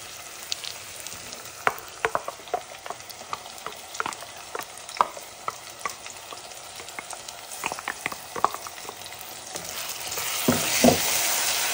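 Spiced masala gravy for an alasandalu (black-eyed pea) curry frying over a low flame in a pan, with a steady soft sizzle broken by repeated scraping clicks of a stirring spoon.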